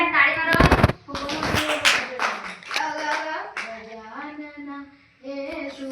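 Rhythmic hand clapping runs through the opening stretch, several sharp claps in a row, mixed with a group singing a devotional Ganesh chant.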